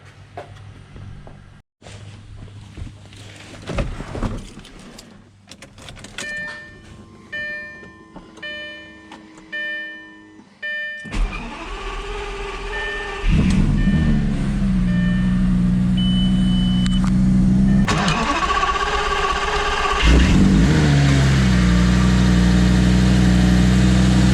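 A Lamborghini Gallardo, just fitted with new spark plugs and coils, clicks and whirs through starting attempts before its engine catches with a loud roar, then settles into a steady, strong idle close by, with a later rev swell.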